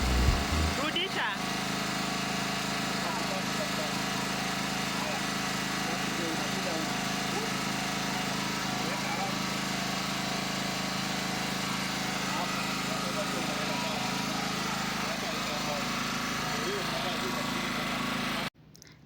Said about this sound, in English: This generator is our short-term solution